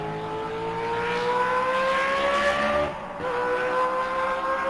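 A 1950s BRM V16 Mk2 race car engine screams at high revs, a loud, rising multi-tone howl that dips briefly on a gear change and then climbs again.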